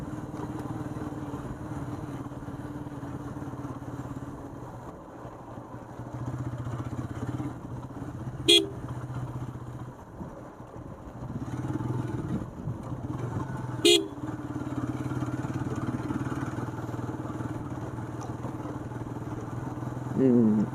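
A motorcycle engine idles and drones steadily near a bridge over the Damodar River, with a couple of sharp horn toots and some nearby chatter in the background.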